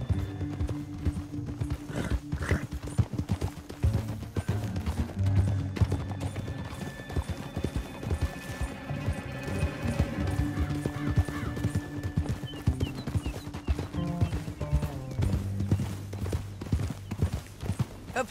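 Horse hooves clip-clop rhythmically through a canyon in Red Dead Redemption 2, with whinnies and neighs rising over a steady game music bed and ambient noise.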